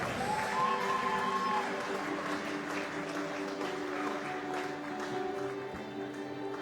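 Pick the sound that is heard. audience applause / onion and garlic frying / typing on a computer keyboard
audience applause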